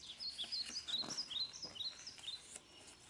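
Small bird chirping in quick, high, repeated tweets, a busy string of close, clear calls with a faint rubbing noise underneath and no talking.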